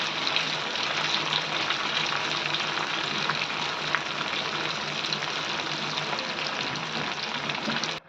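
Steady, dense sizzling of dal bati frying in hot oil, a constant close crackle that continues unbroken for several seconds before cutting off abruptly, with no voices.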